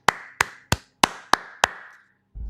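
Six sharp hand claps land in an even, quick rhythm as a round of applause, each crisp and close, before a short pause and a low thump.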